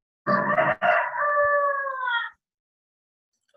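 A rooster crows once, loud and near, a long drawn-out cock-a-doodle-doo that breaks briefly at the start and then trails off, with no talking over it.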